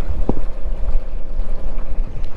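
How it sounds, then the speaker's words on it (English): Both engines of a sailing catamaran run steadily, a low rumbling drone close by with wind buffeting the microphone and water noise around the hull. "so both engines are running."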